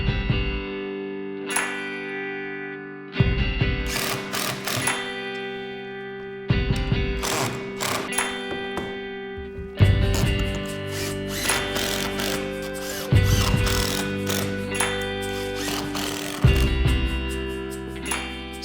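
Power screwdriver drives screws into a beam, several loud whirring bursts with pauses between them, each run starting abruptly, with no voices.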